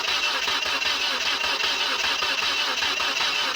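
The engine of a Mazda Verisa with a no-start fault cranks continuously with the throttle open, making a steady, loud, rhythmic churning close to the microphone with no talk over it.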